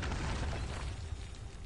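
An artillery strike explodes in Borderlands 3 during a gate siege, a brief, faint, rumbling boom with a dense burst of debris noise that fades over under two seconds.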